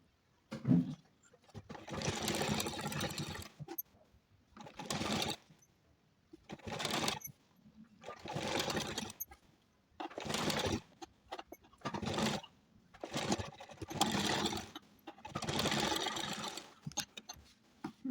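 Domestic sewing machine sewing a velvet kurti neck facing, running in repeated bursts of a second or two separated by short pauses, close and fairly loud, with no talking.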